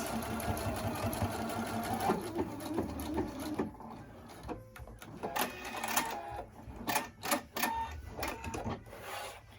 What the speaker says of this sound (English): I'm just sewing straight down it